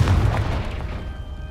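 A Confringo spell explodes in the video game Hogwarts Legacy: a single deep, close boom that hits at once and fades over about a second and a half.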